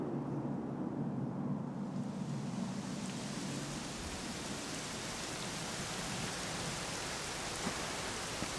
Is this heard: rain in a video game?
yes